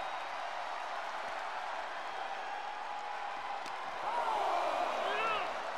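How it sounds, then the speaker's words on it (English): Steady, roaring crowd cheering from an arena in the WWE 2K23 wrestling video game on PS4, continuous throughout and swelling slightly near the end, with commentary talk running over it. "Fighting in the crowd now where the cheers may drown out the ref's count."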